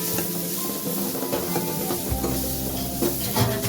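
Garam masala and coriander powder stirred into the tadka for Punjabi kadhi in a hot pan: a continuous close sizzle with scraping stir strokes and occasional soft knocks against the pan.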